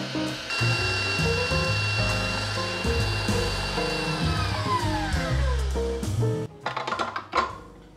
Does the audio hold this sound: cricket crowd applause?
no